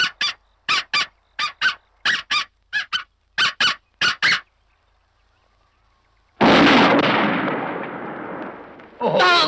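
A series of about a dozen short, evenly spaced duck calls in a hunting scene of a Spanish animated Mortadelo y Filemón film, followed by silence, then a loud sudden blast that decays slowly, and a final call.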